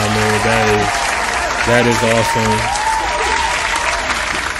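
Applause from a crowd, dense clapping that fills the clip at a steady level, with a voice talking over it.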